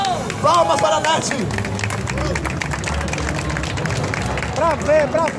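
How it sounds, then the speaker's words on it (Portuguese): Crowd clapping and cheering for a performer at a dance competition final, loud and close, mixed with shouting voices and music. "Palmas para a Nath!"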